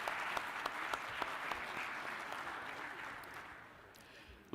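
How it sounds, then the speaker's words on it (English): An audience at a United Nations Public Service Forum claps for its panelists and moderator in a steady, dense round of applause that fades slightly toward the end, with no talk over it. "Please give one more round of applause for our panelists and the moderator."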